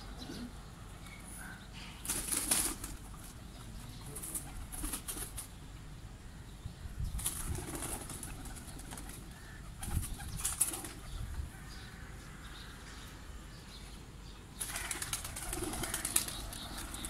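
Pigeons flap their wings during flight training in a village, with several bursts of wing beats rising and fading at a moderate distance over quiet outdoor background.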